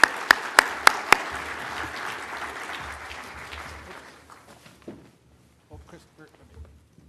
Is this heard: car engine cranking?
no